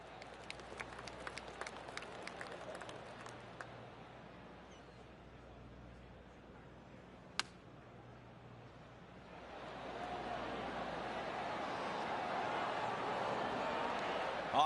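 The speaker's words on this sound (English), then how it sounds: "I can hear the golf claps around the course." Golf claps from the gallery around the course in PGA Tour 2K25 at the Midwest Legacy Invitational, Georgetown: a few sparse ticks early, then a steady, moderately loud wash of distant crowd clapping swells in and holds to the end.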